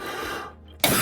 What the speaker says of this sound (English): you'll be hearing me coughing from time to time